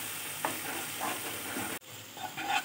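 Spice masala with garam masala being sautéed in a pan for a raw banana roast, a faint steady sizzle with soft scraping stirs and a brief break partway through, quiet and close.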